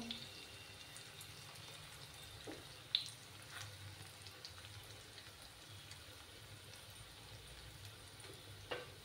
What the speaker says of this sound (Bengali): এইভাবে আমি ফ্রাই করে নেব।